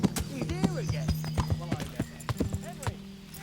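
Horse hooves clip-clop in the medieval video game Kingdom Come: Deliverance, a quick, uneven run of sharp hoof strikes close by while a person talks over them.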